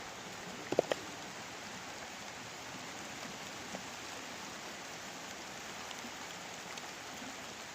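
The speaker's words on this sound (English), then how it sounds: "It's raining pretty good." Gentle, steady rain pattering on a surface at a creek, a soft continuous hiss with a couple of brief taps early on.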